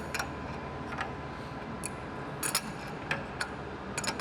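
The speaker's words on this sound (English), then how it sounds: "I do want to tighten this bolt through here" A retaining bolt being tightened, heard as a faint, scattered series of sharp ticks and clicks spread over a few seconds against low background noise.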